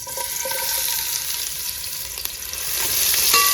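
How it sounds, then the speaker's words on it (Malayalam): Finely chopped medium onion frying in hot oil for ghee rice gives a loud, continuous sizzle with occasional light clinks of a utensil, swelling slightly toward the end. "അങ്ങനെ ഓയിൽ ചൂടായി വന്നിട്ടുണ്ട് അതിലേക്ക് ഒരു മീഡിയം സവോള കട്ട് ചെയ്തത് ചെറുതായി അരിഞ്ഞത് ഇട്ട് കൊടുക്കും"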